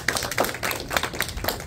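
Church congregation clapping in applause during a Spanish-language worship service, scattered and fairly faint, in a brief uneven patter with no talk over it.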